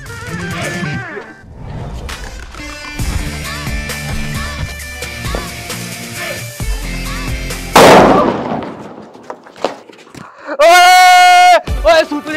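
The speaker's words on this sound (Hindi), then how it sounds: "ओए सूतली बम फोड़ दिया मैंने" A sutli bomb firecracker bursts once with a loud, sharp bang during Diwali play, set among excited voices talking and shouting before and after the blast.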